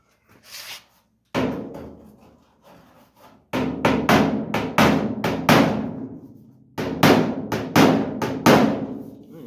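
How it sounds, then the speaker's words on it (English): Repeated hard metallic-wooden bangs struck in quick bursts, a series of hammer blows on a kinked 1956 Chevy hood with short pauses between clusters, loud and close. "get the hammer out, and see what we can do"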